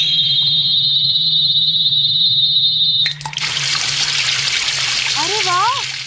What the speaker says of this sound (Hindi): ये देखो पानी कितनी तेजी से बह रहा है।